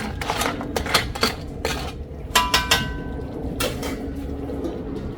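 Crab in sweet chili sauce being stirred in a pan: a spoon or spatula repeatedly scrapes and clinks against the metal pan in irregular bursts over a steady low background, close and fairly loud, with no talking.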